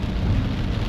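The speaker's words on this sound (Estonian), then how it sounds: "Õnneks praegu sajab natukene vähem." Heavy rain pours steadily during a storm in Cebu, a dense, loud, continuous roar with no break.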